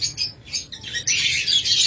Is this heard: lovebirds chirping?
yes